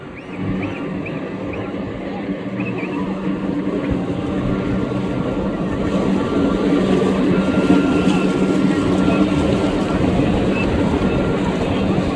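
A motorboat with a 40-horsepower engine drones steadily over the sea, its low rumble building slightly louder and holding on without a break.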